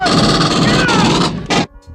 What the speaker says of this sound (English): There are guns, and then there's the pulse rifle.